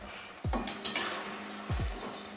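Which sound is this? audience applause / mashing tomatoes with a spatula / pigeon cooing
mashing tomatoes with a spatula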